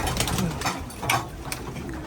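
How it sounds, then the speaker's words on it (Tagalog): Racing pigeons coo softly in a loft, a few low murmuring calls over steady background noise, with someone talking at times nearby. "Yung mga ibon natin, mga tol."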